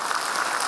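A short, steady burst of clapping from an audience at a county magistrate's inauguration ceremony in Nantou, a dense even patter that cuts off abruptly.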